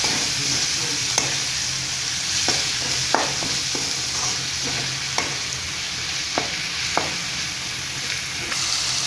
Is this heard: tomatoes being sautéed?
yes